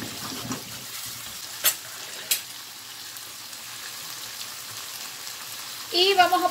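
Chicken hearts in a Cuban fricassee frying in a pot, a soft steady sizzle with a couple of sharp clinks, then a louder crackling burst as potatoes drop in.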